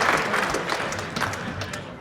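A crowd applauds at the 2014 Real Tennis World Championships, with steady, dense clapping sustained throughout at a fairly loud, even level.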